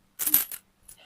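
Coins from a broken money pot clatter onto a hard surface, a quick jingling burst followed by a fainter clink a moment later.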